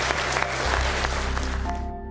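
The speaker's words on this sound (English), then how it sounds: "Give yourselves a round of applause." Audience applause at the close of a Warmachine tabletop gaming tournament, a steady dense patter of many hands that carries on throughout, with a low hum underneath and the clapping thinning toward the end.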